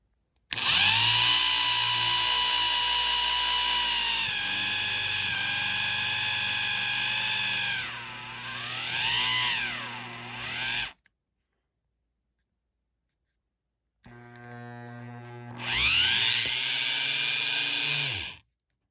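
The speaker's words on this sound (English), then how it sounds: "Now the drill's stuck." A power drill whines loudly and continuously, its pitch dipping and rising as it bogs down, then stops; after a silent gap it runs again briefly.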